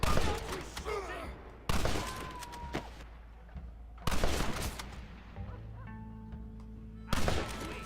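Gunfire in the Red Dead Redemption video game: loud broadband bursts of shots arrive in separate volleys a couple of seconds apart, with quieter stretches and faint game ambience between them.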